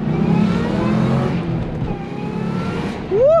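Car pulling away hard from a red light, a loud, close engine roar with rising revs heard from inside the cabin, ending in a sharp upward sweep.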